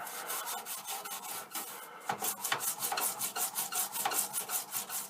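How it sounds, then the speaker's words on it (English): Rapid, rhythmic scrubbing of a brush on a Commodore PET 2001 circuit board, close and steady, with a brief pause before it resumes faster. "and then I'm going to scrub it"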